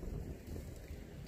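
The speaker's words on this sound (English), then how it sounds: "The wind's been gusting on and off" Gusting wind roars steadily against the microphone outdoors ahead of a storm, a continuous low rumble and hiss that swells and eases slightly without pause.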